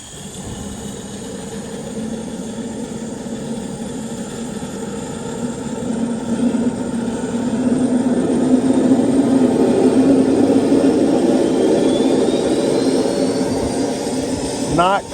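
A small model jet turbine engine starts up, spooling with a steady rising roar and whine, getting louder over time, close by.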